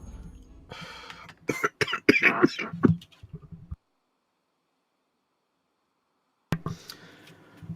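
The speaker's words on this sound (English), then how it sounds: "I only muted the back end of that cough" A person coughs several times in a harsh close burst, followed by abrupt silence before faint noise resumes.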